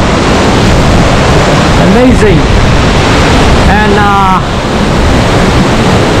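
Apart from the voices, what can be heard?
Gljufrabui waterfall in Iceland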